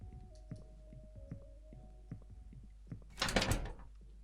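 A door in the video game Worse than Death rattles and thunks in a series of soft knocks, ending in a louder burst of clattering shaking, with no talking.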